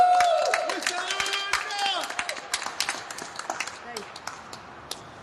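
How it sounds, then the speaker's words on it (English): Applause from the audience at a press conference demanding a prisoner's release, scattered claps fading out over a few seconds while voices and cheers mix in. "Please give him and Marvina a big round of applause."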